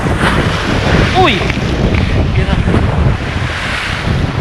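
Sea waves surging and crashing close around a small fishing boat, with steady wind buffeting the microphone throughout and a brief voice calling out over the rushing water.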